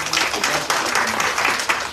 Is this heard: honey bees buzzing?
no